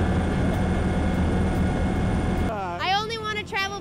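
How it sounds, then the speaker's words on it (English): Helicopter flight with the 12 Apostles Helicopters along the coast: a loud, dense engine and rotor roar fills the first part, then drops away as a voice speaks over a quieter background. "Hop in a chopper by the 12 Apostles helicopters and check it out by air."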